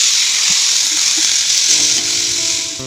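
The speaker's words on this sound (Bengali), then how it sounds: "আর জল ঢালার পরে যা আওয়াজ হচ্ছিল যেন মনে হচ্ছিল প্রেসার কুকারের সিটি পড়ছে" Water poured onto potatoes frying in a hot pan, a loud continuous hiss and sizzle with faint clinking and tonal whistling toward the end.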